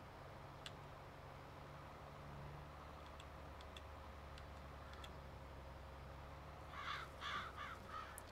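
Crows caw in Farming Simulator 22 on the Elmcreek farm map. Scattered short calls come over a steady low hum, then a louder cluster of caws closes the stretch, with no voices.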